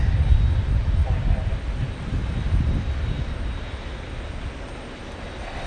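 A Southwest jet airliner at Phoenix Sky Harbor airport makes a low, rumbling engine roar that is strongest at the start and slowly fades as it passes, with no talking.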